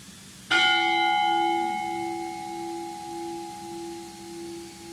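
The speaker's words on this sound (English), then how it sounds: "we will ring the memorial bell in honor of Charles T." A memorial bell is struck once at an outdoor Memorial Day ceremony, a loud clear clang followed by a long, steady ringing tone that slowly fades over several seconds with no voices over it.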